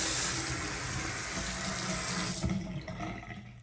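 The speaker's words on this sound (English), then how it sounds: "we'll just run a little bit of water with each of those." A bathroom sink faucet, newly installed as a centerset model, runs a steady stream of water into the basin for a few seconds before the flow eases off near the end.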